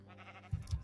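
A Minecraft sheep bleats briefly and faintly, a short soft call followed by a few low thumps nearby.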